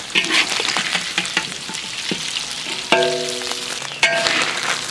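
Loud sizzling of loach fish stir-frying in a hot wok, punctuated by quick spatula scrapes and clanks, with a couple of ringing metallic tones near the end.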